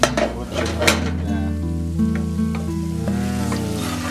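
Chili meat cooking down in a pot sizzles steadily and loudly, with a constant frying hiss and occasional utensil clinks close by.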